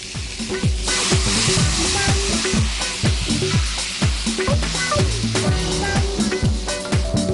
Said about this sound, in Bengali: একদম এইভাবে শুকনা শুকনা করে ভেজে নিতে হবে